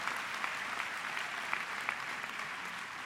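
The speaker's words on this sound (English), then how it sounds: "So give yourself a round of applause." Graduation ceremony audience applauding steadily in a large hall, a dense even wash of many hands clapping at moderate distance with no voices over it.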